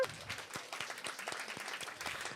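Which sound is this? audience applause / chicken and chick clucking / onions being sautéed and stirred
audience applause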